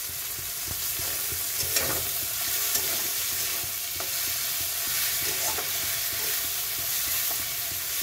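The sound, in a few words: green chillies frying and being stirred in a pan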